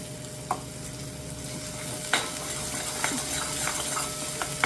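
Mutton sizzles steadily as it fries in a pan for a spicy curry, with occasional scrapes and clinks as it is stirred, close and continuous with no talk.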